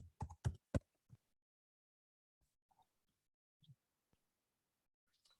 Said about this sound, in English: So let's type in Pokemon plush.